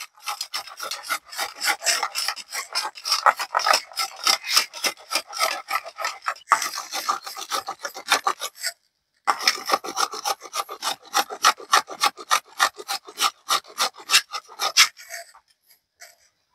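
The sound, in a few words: grating dried beetroot with a grater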